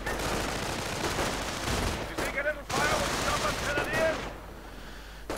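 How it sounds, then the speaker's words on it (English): MG-42 machine gun fire from a WWII strategy video game crackles in rapid bursts amid battle noise, with a brief pause and faint radio-like tones between volleys. "MG-42 firing away from the wreckage of the Ostwind."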